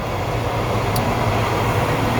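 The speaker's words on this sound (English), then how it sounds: "Beg your pardon with the train." Train passing on railroad tracks right beside a Philadelphia yard, a steady, loud broadband rumble with deep low-end roar that fills the whole stretch without letup and no voices.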